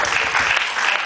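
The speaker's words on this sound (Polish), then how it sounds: "brawa dla nich, że w nas wierzą." A small, intimate concert audience applauds for a moment, a loud, close burst of clapping with no talk.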